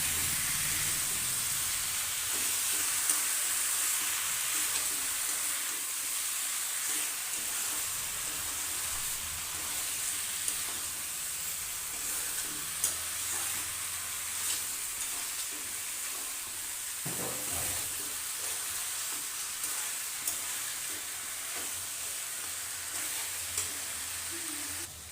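Chicken and tomato sautéing in a pan for an Adivasi-style chicken curry with potato, a constant hissing sizzle broken by occasional stirring scrapes.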